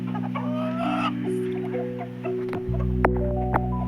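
Backyard chickens cluck and call close by, a few rising bird cries over a steady background hum, with a louder low rumble coming in near the end.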